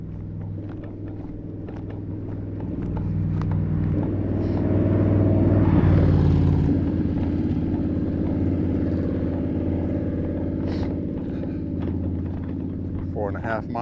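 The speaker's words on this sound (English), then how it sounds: "Hear a motorcycle coming up behind us." A motorcycle comes up from behind on a road, its engine drone swelling to a peak about midway and then easing off, heard close by beneath steady footsteps and outdoor ambience.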